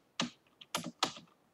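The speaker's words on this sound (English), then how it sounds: "I'm pressing Enter." Keys tapped on a computer keyboard while entering a firewall rule command for OpenVPN on Ubuntu, heard as three or four distinct, close keystroke clusters spaced apart with a final sharp press at the end.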